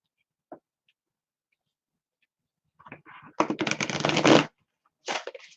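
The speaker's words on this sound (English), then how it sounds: "Let me shuffle this really good." A few soft taps, then a burst of rapid papery riffling as tarot cards are shuffled close by, followed by another short shuffle.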